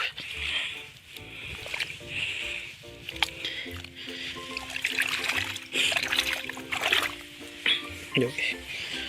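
Cold water splashes and trickles as someone washes hands and muddy feet, with someone talking over it and scattered splashing throughout.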